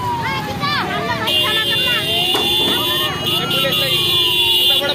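An ambulance horn sounds during a road protest, its wailing siren sweeping up and down through the clip while a loud crowd shouts and talks over it.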